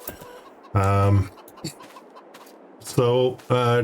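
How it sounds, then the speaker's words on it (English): Chickens on a farm in a farming simulator video game give several short, loud, nasal clucks and squawks in separate bursts, close by, with quiet gaps between them. "Chickens are doing pretty well."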